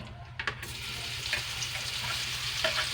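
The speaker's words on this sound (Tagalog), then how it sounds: "lutuin muna natin tong ating hotdog" Hot dogs fry in a pan with leftover oil, giving a steady, close sizzle with a few stirring scrapes and clicks near the start, and no talking.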